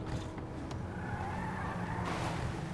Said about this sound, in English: traffic here is too loud